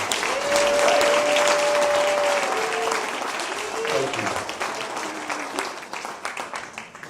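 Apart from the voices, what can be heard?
audience applause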